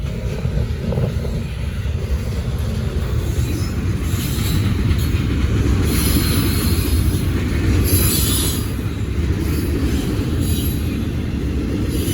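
Norfolk Southern freight train rolling past with Florida East Coast stack cars on the Charlotte District, a loud, steady rumble of wheels and cars with intermittent metallic wheel squeal and no voices.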